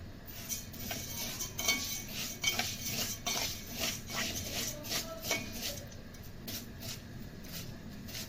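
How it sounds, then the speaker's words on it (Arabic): Vermicelli fries in oil in a pot on the stove as a spoon stirs it, giving soft repeated metallic scrapes and clinks against the pot over a faint sizzle. "اول بقلب في الشعرية زي ما انتم شايفين عبال ما الشعرية تحمر"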